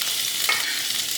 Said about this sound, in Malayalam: ഇനി ചൂടായി വന്ന എണ്ണയിലോട്ട് നമുക്ക് ആദ്യം നാരങ്ങയില ചേർത്തിട്ട് വറുത്തെടുക്കാം